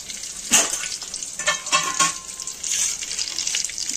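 Curry leaves hit hot oil in a pressure cooker with sharp bursts of crackling sizzle that flare up close, then settle into a softer, steady fizz.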